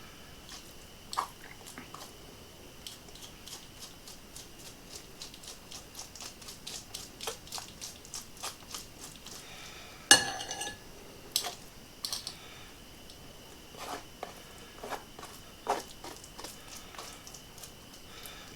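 A utensil scrapes cooked spaghetti squash out of its shell in quick, close, quiet strokes, soft ticking scratches in irregular bursts with a sharper knock partway through.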